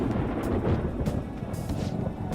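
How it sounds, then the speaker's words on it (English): Thunder rumbles before rain in the video game Persona 5, a low rolling roar with a few sharper crackles, steady and moderately loud, with no talking. "Whoa, sounds like it's going to rain."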